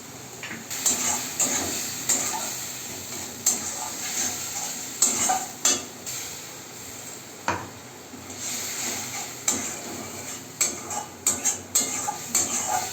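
Ground cumin, turmeric and salt frying in oil in a pan while being stirred, a continuous sizzle broken by repeated scraping strokes of a utensil against the pan, close and without speech.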